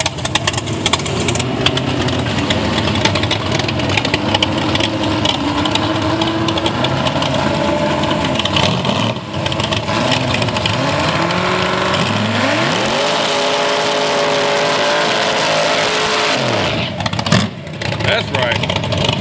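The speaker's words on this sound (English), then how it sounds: "Look at a loud ass bike." A loud drag racing motorcycle engine at a 1/8 mile strip roars and revs from fairly close, dropping to a rumbling idle and then surging up again among crowd noise and other engines.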